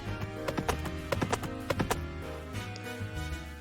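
Horse hooves clip-clopping in the farming game Pumpkin Days, a steady series of sharp clacks in irregular clusters over a continuous musical background, with a brief whinny-like tone.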